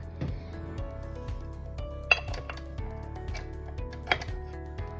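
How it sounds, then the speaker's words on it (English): A dough hook is fitted onto a stand mixer for cinnamon roll dough, giving a couple of sharp metallic clinks and small clicks over a low background hum, close and otherwise quiet. "change and put on the dough hook"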